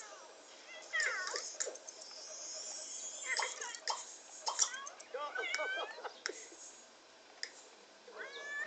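Cat meowing in The Sims 3 Pets life-simulation game, several short rising and falling meows spread across the clip with game sounds between them.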